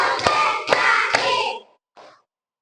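Children in a classroom clapping game clap their hands together, three sharp claps in quick rhythm with busy broadband sound, followed after a pause by one softer brief clap.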